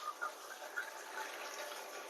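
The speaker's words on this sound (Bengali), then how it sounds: "তরকারিতে ঝোল দিয়েছিলাম" Water is poured into a simmering curry of bata fish and eggplant, a steady, soft splashing rush that carries on for a couple of seconds, close by and without talk.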